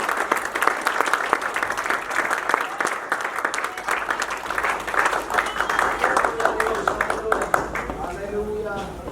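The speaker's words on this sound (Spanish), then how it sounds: "Denle un aplauso al Dios Todopoderoso." Sustained, dense clapping from a church congregation at an evangelistic campaign service, steady and fairly loud throughout, with voices calling out faintly beneath it toward the end.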